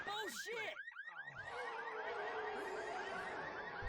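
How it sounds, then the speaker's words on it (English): A green vehicle's car alarm in a video game wails in repeated rising and falling electronic sweeps, loud and continuous, with the first few whoops choppy before it settles into a steady cycle. "It actually has an alarm."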